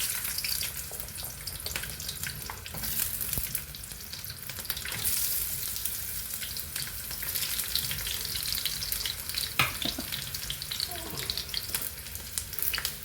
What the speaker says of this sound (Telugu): చూడండి, నూనె బాగా కాగింది. ఇందులోకి ఈ అల్లము, ఎల్లిపాయలు వేద్దామండి.